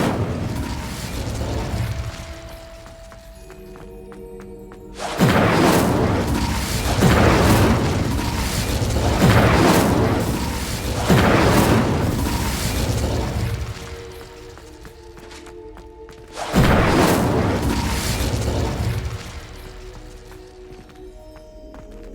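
Fiery spell blasts from Hogwarts Legacy, cast as Incendio: several loud whooshing bursts with booming low rumble, each swelling then fading over a few seconds, with a background game tone underneath.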